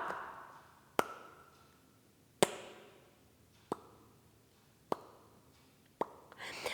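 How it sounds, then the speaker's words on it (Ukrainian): Lips pressed shut and then popped open, making loud "pa" sounds: five or six sharp, close pops spaced roughly a second apart in a quiet room. "а коли ми будемо відкривати рота, ми зробимо гучний звук па"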